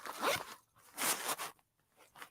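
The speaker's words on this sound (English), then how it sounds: "I think I may have put it in my little zipper bag here." A small zipper bag being unzipped at close range: three quick zipping pulls with brief pauses between them, crisp and alone without any talk.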